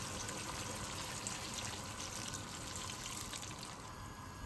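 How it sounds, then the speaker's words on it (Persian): About a liter of water goes into a pot of Uzbek beef plov, a steady faint trickling pour that lasts throughout with no talking. "بعد حدود 1 لیتر آب اضافه میکنیم تا جایی که سطح مواد رو آب بگیره"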